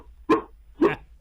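A dog barks twice on a phone voicemail, two sharp, evenly spaced woofs close to the mic, with no talk.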